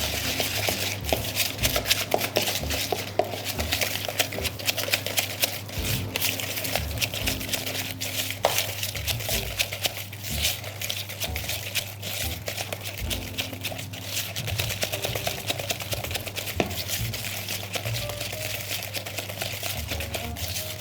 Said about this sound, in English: Hand whisk, and we're going to mix all together until the sugar is fully combined.